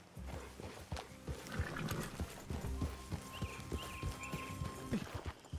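Horses' hooves clip-clop in Red Dead Redemption 2, a steady rhythmic plodding of several horses over uneven ground, accompanied by rustling, creaking tack and a faint whistle-like tone, with no one speaking.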